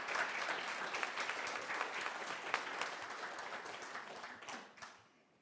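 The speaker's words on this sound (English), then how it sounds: "Give them an applause." An audience at a conference panel in a Reykjavik hotel applauds, a dense, even wash of clapping from a moderately distant crowd that holds steady for about five seconds and then tapers off, with no talk over it.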